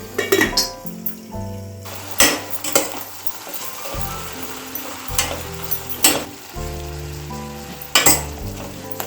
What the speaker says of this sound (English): Keep a lid on the kadai so our brinjal pieces will become soft and tender.